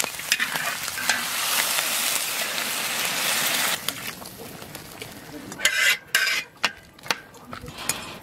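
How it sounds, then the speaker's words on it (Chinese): Scallion, ginger, chili, star anise, cinnamon and bay leaves stir-fried in a wok with dark soy sauce, a loud, bright sizzle under scraping strokes that gives way to sharper, rhythmic spatula knocks toward the end. "下入葱姜，给辣椒、八角、桂皮、香叶炒过，来点老抽，炒了炒香以后"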